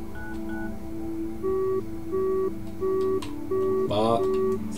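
Telephone dialing in the video game The Final Station: a steady run of evenly spaced electronic keypad tones over a low background hum, ending with a short vocal burst.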